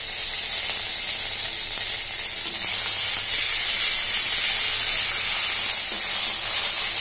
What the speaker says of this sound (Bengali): জিরে ফোড়নটা আমি দিয়ে দিয়েছি। আদা রসুন বাটাটা দিয়ে দিলাম।